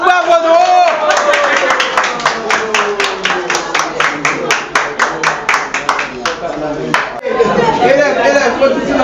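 Audience clapping at a school gathering, a dense run of sharp claps over several seconds with crowd murmur, tapering off near the end as voices take over.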